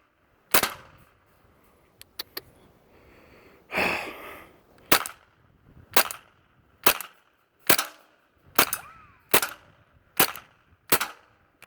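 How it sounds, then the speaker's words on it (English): A Marlin .22 rifle fires a series of sharp, distinct shots, about a dozen spaced roughly evenly, each a crisp crack with a short decay, close and loud against quiet surroundings. "Alright, let's go ahead and shoot."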